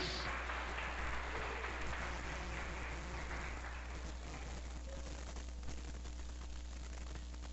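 A church congregation claps during a sermon, a steady, dense roar of applause carried over a low mains hum, with no words spoken above it.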